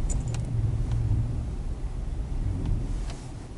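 A car rolls along a snowy Siberian road, heard from inside as a steady low engine and tyre rumble, with occasional faint rattles.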